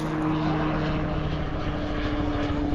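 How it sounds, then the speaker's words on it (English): A helicopter passes overhead during a spring-break boat ride to Lover's Key, its engine a steady loud drone with a sustained low tonal hum that holds evenly throughout, with no voices over it. "Helicopter."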